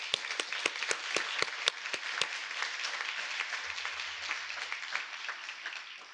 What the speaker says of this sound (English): And let's give a round of applause to those heroes.